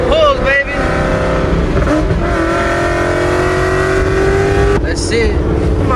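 A Ford Mustang fitted with a loud aftermarket Borla or Corsa exhaust revs hard and accelerates, a loud continuous close-up roar that climbs in pitch, with a brief lift in the middle before pulling again.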